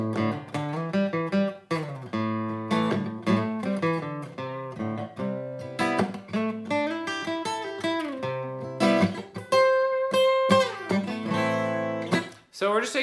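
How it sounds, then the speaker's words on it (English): Electric or acoustic guitar plays a minor pentatonic scale line over two alternating chords, a steady stream of clear plucked notes and strums at even, moderate loudness with no talking. "So we're just taking two chords and going back and forth between the minor pentatonic scale that we know and love."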